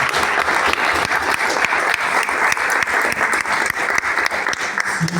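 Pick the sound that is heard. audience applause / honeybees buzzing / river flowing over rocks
audience applause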